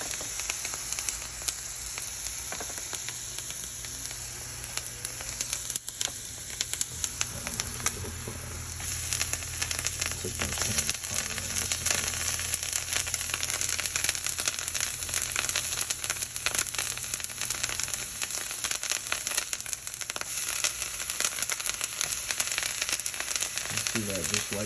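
Pieces of lion's mane mushroom frying in butter in a pan, a faint, steady sizzle and crackle with soft spatter, continuous and quiet throughout.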